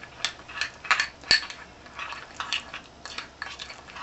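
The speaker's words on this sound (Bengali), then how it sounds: "নিয়ে দুটোকে মিক্স করছি, চালের গুঁড়ো আর ঘি।" A utensil scrapes and clinks against a bowl while rice flour and ghee are mixed into a paste, with irregular light taps and one sharper knock, close and fairly quiet, no speech.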